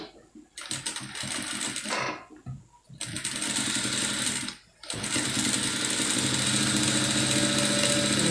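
A sewing machine stitches a peplum blouse along its seam line in several close, loud bursts of rapid whirring, with short pauses between runs and a long continuous run at the end.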